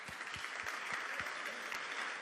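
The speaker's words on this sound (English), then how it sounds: "So give a big applause to Peter Warner" Audience applause at a talk honoring a colleague, a steady, fairly quiet wash of clapping from a crowd with a few faint low thumps, continuous throughout.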